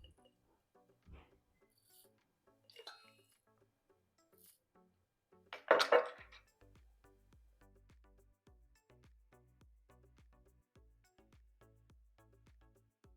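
Spice is crushed in a mortar and pestle, giving sparse, faint taps and clinks with one louder grinding crunch midway, followed by a run of quick light pounding knocks.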